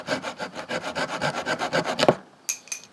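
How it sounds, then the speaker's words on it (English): A toothbrush handle being sawn shorter with a small blade during a rest day on a bike tour, giving a fast, steady run of about fifteen rasping strokes close up, ending in a snap, then a couple of faint clicks. "If you want to save an extra little bit of weight, a few grams, cut your toothbrush shorter."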